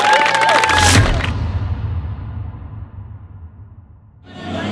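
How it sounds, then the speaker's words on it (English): Cheering and applause from a concert crowd on a dance music tour stop in Vancouver, loud and dense at first, then dying away into a quiet tail before noise swells again at the end. "I just want to give a big round of applause for all you guys"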